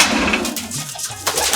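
Breeder pigeons in a loft coo close by, soft throaty calls overlapping one another over a busy background of fluttering and shuffling, with no talk.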